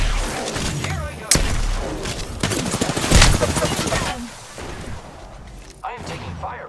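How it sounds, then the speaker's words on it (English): Rapid automatic gunfire and impacts in the video game Apex Legends, loud and sustained across most of the clip, with a player talking over the shooting. "I am taking fire, friends."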